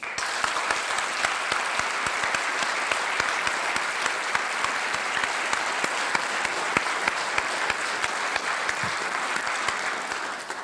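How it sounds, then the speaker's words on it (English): An audience at a school district's Distinguished Alumni and Circle of Excellence awards ceremony gives sustained, dense applause that holds at an even level throughout. "let's have one more round of applause for all of those tonight's honorees."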